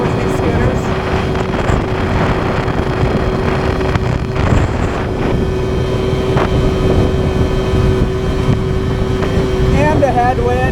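A 2001 Yamaha Zuma motor scooter droning steadily at full throttle on a slight incline, with heavy wind buffeting the microphone and a speaking voice at the end.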